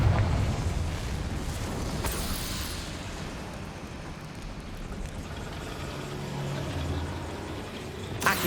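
Confringo blasting spell in Hogwarts Legacy goes off as a heavy rumbling explosion, with a sharp burst near the start and loud low roar sustained through the clip.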